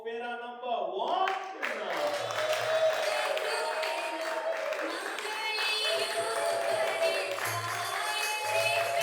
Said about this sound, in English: Ladies and gentlemen, can we give a big round of applause for Fera number 1?